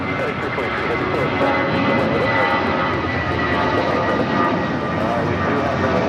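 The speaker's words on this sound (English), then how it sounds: "That was JetBlue Airways Flight 1732 heading to Salt Lake City at A320." A JetBlue Airways A320 departs LAX, its jet engines roaring loudly and steadily throughout while someone talks over the noise.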